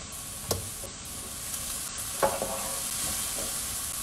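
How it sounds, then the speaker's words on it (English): Broccoli added to olive oil in a pan for a steak and shrimp stir-fry sizzles steadily up close, with a few sharp clacks of stirring or utensil contact scattered through. "All right, I'm gonna add my broccoli."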